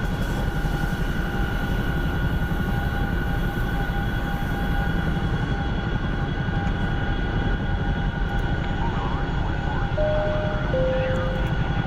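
A Chinook twin-rotor helicopter in a flight-simulator video game drones with a steady, loud, unbroken rotor and engine roar, holding a constant hum throughout with faint tonal beeps near the end and no voices.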